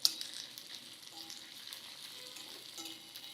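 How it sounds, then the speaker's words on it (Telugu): Dried red chillies sizzle in hot oil together with fenugreek, mustard seeds and urad dal, a steady close crackling hiss with faint stirring, no voices. "అన్నీ కలిపి వేయించేసుకోవటమే"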